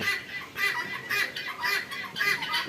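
Egg-laying hens on a Bangladeshi farm cluck in short, overlapping bursts, a close and fairly loud flock chatter that rises and falls in waves.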